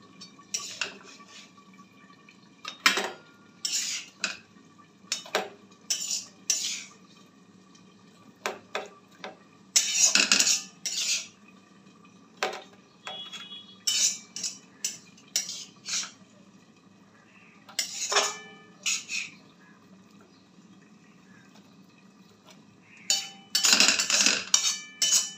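Fried spinach greens are scraped from a kadai onto a plate in a home kitchen, producing irregular clinks and metallic taps spread over the stretch, some in quick clusters, with quiet pauses between.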